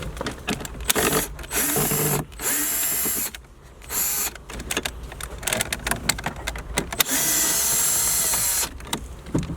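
A power drill driving out screws from a Volkswagen Golf or Jetta dash radio, whirring in several bursts of varying length separated by short pauses, close and fairly loud with no talk.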